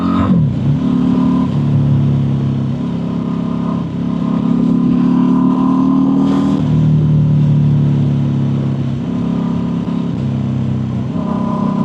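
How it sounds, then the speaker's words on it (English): Busy road traffic streams past, with car and motorcycle engines droning and revving close by in a steady loud rush, individual vehicles rising and falling over the continuous roar. "Is all this traffic today, honestly. I've never seen it this busy."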